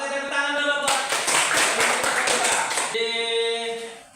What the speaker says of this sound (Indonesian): Oke, tepuk tangan dulu buat